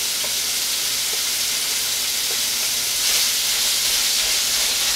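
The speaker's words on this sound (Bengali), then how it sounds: "গ্রাউন্ড মিটের সাথে সবগুলা মশলা এখানে আদা, রসুন, জিরা, ধনিয়া, মরিচের গুঁড়া সবগুলা একসাথে দিয়ে আমি মাংসটাকে রান্না করে নেব।" Ground meat sizzles steadily in a pan with ginger, garlic, cumin, coriander and chili powder, a dense continuous hiss with faint occasional clicks and no talking.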